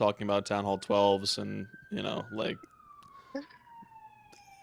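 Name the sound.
police and fire sirens in Los Angeles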